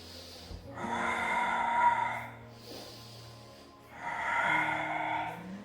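Audible breaths in and out during a Pilates exercise, two long exhalations with a softer inhalation between, close and fairly quiet, with no talk over them.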